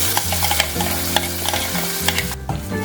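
Cumin paste fries in hot oil in a pan for an Andhra-style cumin gravy, with a steady close sizzle and repeated scraping stir strokes throughout, no voices present.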